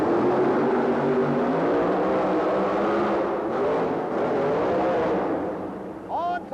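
The rear-engine Gravedigger monster truck roars through a timed qualifying run at a 1990 monster truck event, a loud sustained engine drone with shifting pitch and a quick dip midway, under excited commentary.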